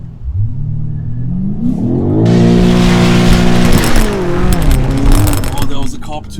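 A car launches hard, its engine revving up with rising pitch into a loud, roaring acceleration with a hint of tire noise, while excited voices talk and shout over it.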